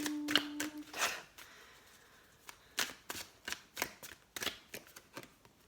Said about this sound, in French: Je vais les mélanger quand même.